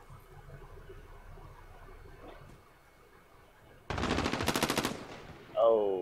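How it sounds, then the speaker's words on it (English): Automatic gunfire bursts in a competitive shooter video game match with M4 rifles and sniper rifles: a quiet ambient stretch, then a sudden loud rapid volley lasting about a second, followed by a brief sharper effect. "Night Hollow with some really bad shots"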